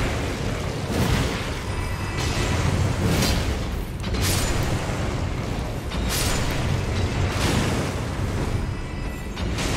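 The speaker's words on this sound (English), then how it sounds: "One of those bombs is not mine" Bombs exploding in the Elden Ring video game, several loud booming blasts arriving in spaced bursts over a dense rumbling battle din.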